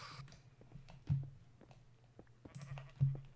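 Sheep in the video game Minecraft bleating in short calls, two louder bleats standing out among softer patter and game noises, with no talk.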